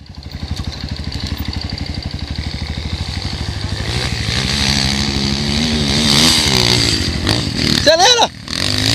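A trail motorcycle on a dirt trail revs steadily, then climbs in pitch as it accelerates hard, loud and close, with a brief clattering burst near the end.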